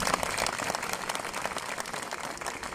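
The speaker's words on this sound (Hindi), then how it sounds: "सबसे पहले तो आप इनके लिए तालियां बजाएं" Steady, dense audience applause in a university hall for staff members standing on stage, continuous clapping at an even level throughout.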